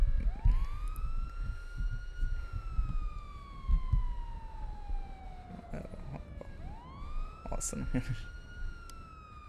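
A police siren in a roleplay video game wails in long rising and falling sweeps, loud and close, restarting with a fresh rise near the end, while someone talks in Hungarian over it.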